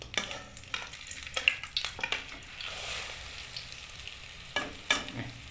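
An egg and onion omelette fries in a pan with a soft, steady sizzle while it is flipped, broken by a few scraping and tapping sounds from a utensil against the pan.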